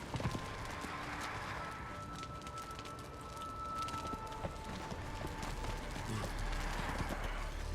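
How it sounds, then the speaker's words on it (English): Horse hooves clip-clop steadily in the survival game Conan Exiles, a continuous run of close, rhythmic hoofbeats mixed with ambient game sound and no talk. "Come on, stupid horse."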